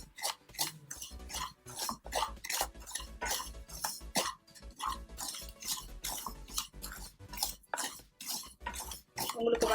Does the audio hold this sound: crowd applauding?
no